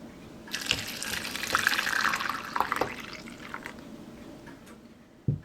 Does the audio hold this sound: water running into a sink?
yes